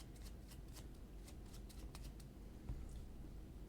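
A deck of playing cards being shuffled during a tabletop card game, a series of quick, soft riffling flicks close by at a low level, with a slightly firmer tap near the end.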